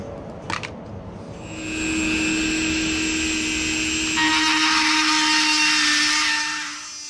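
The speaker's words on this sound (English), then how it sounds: "Once you've made the required cuts with the Dremel tool" Dremel rotary tool cutting a plastic channel for a screen room drain in a lanai: after a couple of faint clicks, a steady high-pitched whine spins up and holds close and loud, its tone shifting slightly midway, then winds down.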